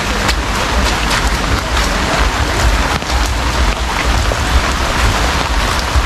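Steady rain drumming on an umbrella at night near a street, a loud, continuous close hiss of drops with a faint low rumble underneath and no speech.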